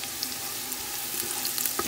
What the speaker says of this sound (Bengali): তেলটা গরম হওয়ার পরে এখন এখানে পেঁয়াজ কাটা ইউজ করছি